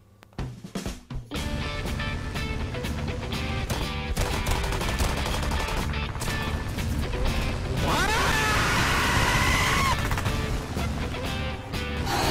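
Aircraft rear gunners firing machine guns in a video game, a steady loud rattling stream of automatic fire over droning engine noise for the whole stretch, after a few brief opening bangs.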